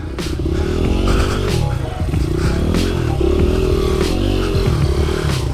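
A dirt bike rides through mud with a steady, loud engine drone and repeated revving swells, along with clattering and scraping from the chassis close by.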